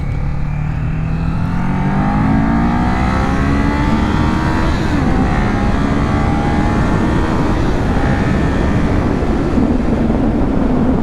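A new Kawasaki Z400 motorcycle accelerates on a highway in second gear, its loud engine note rising steadily in pitch under heavy wind rush, with no talking.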